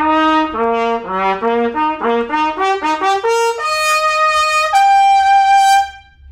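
A trumpet with a SpectraTone standard-throat mouthpiece plays a rising run of short separate notes, then holds a few longer tones, clear and close with a smooth attack.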